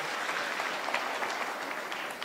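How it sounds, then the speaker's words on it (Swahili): Mourners at a burial in Limuru applaud the religious sisters and nuns present, an even, moderately faint spread of many hands clapping that runs without pause. "Tunaomba tusimame tuwapigie makofi"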